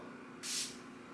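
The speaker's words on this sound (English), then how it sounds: "I just got the saline solution they had there and I'm just gonna spray it" A single short hiss of saline solution spray bursts out close by, lasting about half a second before trailing off, with quiet background hum around it.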